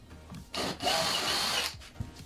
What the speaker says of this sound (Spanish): Una broca de 3, o si tienen una broca avellanadora también lo pueden hacer, pero hacen de un viaje